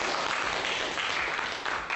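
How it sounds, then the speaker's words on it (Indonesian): A school class clapping together after a lesson, a short burst of dense, fairly loud applause from many hands that fades a little at the close. "Iya, tepuk tangan."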